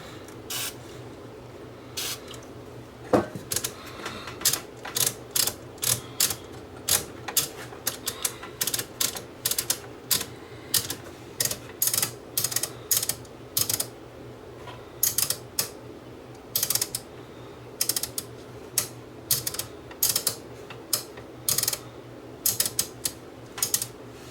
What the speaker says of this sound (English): So this is the record selector switch and tape monitor switch, as well as the main function switch.